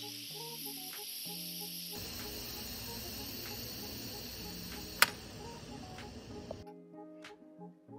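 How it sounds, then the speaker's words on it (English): An Instant Pot pressure cooker vents steam on quick release while carrot ginger soup cooks inside, a steady close hiss lasting several seconds before cutting off. "now I'm going to do a quick release by moving the button from sealing to venting"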